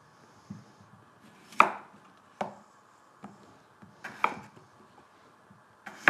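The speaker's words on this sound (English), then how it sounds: "when I'm chopping my potatoes here" A knife chops potatoes on a chopping board for mashed champ, with sharp, irregularly spaced thuds close by and quiet gaps between them.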